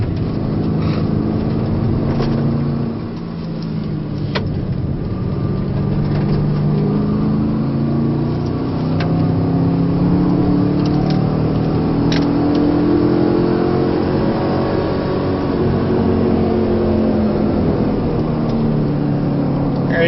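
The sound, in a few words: Camaro or Corvette engine accelerating on race track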